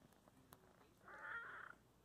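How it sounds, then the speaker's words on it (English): A kitten purrs softly in one short, quiet swell of sound, close and alone against a faint background hush. "she's been purring for like multiple minutes nonstop"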